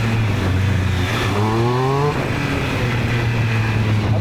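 A motorcycle engine revs steadily up and down close by, its rising and falling pitch sweeping through a short burst of throttle before settling back to a continuous running drone.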